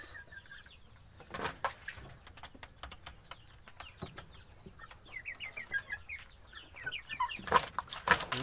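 Two-and-a-half-month-old Bangkok chicken chicks cluck and chirp softly in a quiet space, with occasional louder calls and light rustling near the end.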